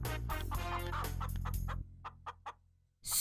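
Chickens cluck loudly and steadily up close, then a few separate short clucks follow before a sudden loud burst at the end.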